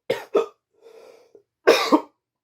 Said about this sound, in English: cough into your arm, people.